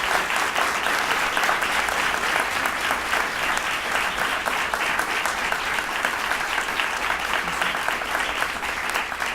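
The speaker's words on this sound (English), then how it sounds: "Let's give another hand to our guest and honor Scott Kelly." An audience at a NASA all-hands event honoring retired astronaut Scott Kelly breaks into sustained, loud applause, dense clapping that holds steady throughout.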